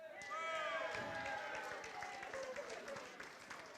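An audience at an awards event cheers and claps, with a sustained swell of whoops and applause that peaks early and slowly fades, a few voices calling out above the crowd.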